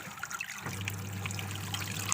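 Dirty water from washing a double bed blanket drains away in a steady trickle. It is close and fairly soft, with a low running tone that sets in partway through and carries on to the end.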